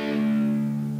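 Distorted electric guitar plays part of a riff, a single sustained chord that rings for about a second. It is loud and alone with no voice.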